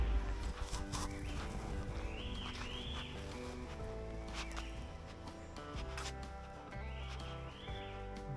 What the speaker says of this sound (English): Just listen to the calls of the birds.